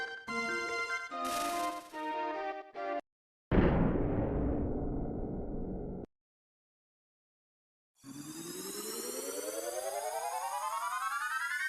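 Secret of Mana video game sound effects around a cannon launch: a short jingle of chiming tones, then a loud booming blast that decays, a silent gap, and a rising whooshing tonal sweep.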